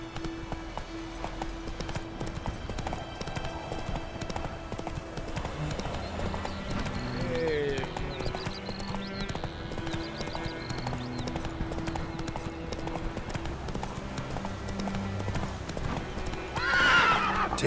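Roach, Geralt's horse in The Witcher 3 video game, gallops with steady rapid clip-clop hoofbeats over a game music bed, and a loud whinny breaks out near the end.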